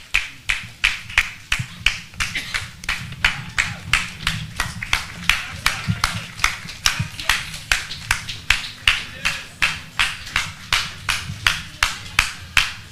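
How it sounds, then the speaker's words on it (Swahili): Steady, rhythmic clapping from a crowd at a Netflix reality show launch event at Westwood Hotel, with even, closely spaced claps continuing throughout over faint background murmur. "Tuwapigie makofi."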